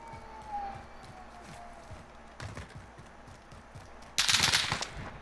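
Gunfire in the Call of Duty Warzone video game: rapid, repeated shots crackle at a distance over a running rhythm, then a loud, close burst of automatic fire near the end.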